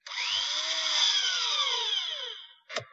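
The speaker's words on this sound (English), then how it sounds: "this drill was quite a problem to mock up" A film-prop drill cutting through steel armor plate gives a sustained high-pitched whine that glides and wavers for over two seconds, then cuts off, with a short sharp clunk right after.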